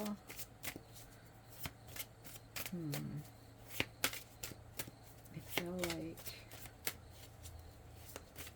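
Oracle cards shuffled in repeated quick riffles and taps, crisp and close, while a person speaks softly in between.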